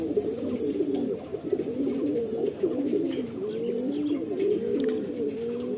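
Andhra pigeons cooing while held in the hand at a pigeon sale: steady, overlapping low throaty coos that run continuously and close up, with no talk.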